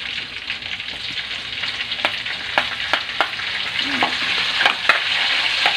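Garlic and onion fry in hot oil with a steady loud sizzle, broken by occasional clinks and scrapes as a utensil stirs them in the pan.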